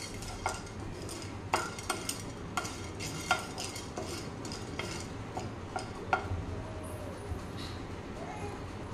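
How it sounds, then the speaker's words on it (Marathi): Chana dal dry-roasting in a pan for an idli and dosa chutney, with a spoon stirring it: light scraping and sharp clicks at an irregular pace over a soft, steady background. "इथे आपण चण्याची डाळ घेतली 1 चम्मच, ती चांगली भाजून घ्यायची आहे।"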